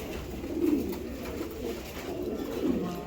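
A shadow grizzle racing pigeon hen coos nearby, two fuller rolling coos rising above a low continuous murmur of other birds, with no speech.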